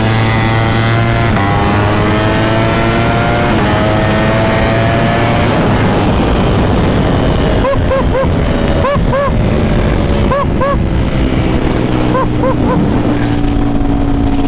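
Ducati Panigale V4 SP2 motorcycle with a Stage 2 ECU flash revs hard and accelerates through gears, a loud close engine roar with rising pitch sweeps and sharp shift cuts, steady and continuous throughout.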